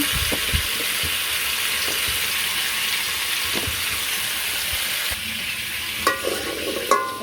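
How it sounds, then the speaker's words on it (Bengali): Potatoes fry in a pan with a steady, loud sizzle, stirred now and then, giving soft scraping bumps. A few sharper knocks near the end. "আলুগুলো তো তাড়াতাড়ি গলবো না, এই কারণে ভেজে ভালো করে ভেজে তারপরে ফুলকল দিয়ে দিন"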